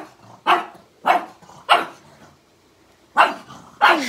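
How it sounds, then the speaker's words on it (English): A dog barks five times at close range at a vacuum cleaner, sharp separate barks spaced roughly half a second apart with a brief gap before the last two. "he'll start barking."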